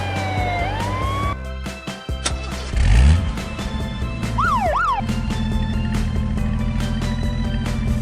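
Cartoon ambulance siren in a kids' nursery cartoon with race cars: wailing and warbling siren tones rise and fall over a steady engine hum and electronic effects, loud and close, with brief sweeping swoosh sounds.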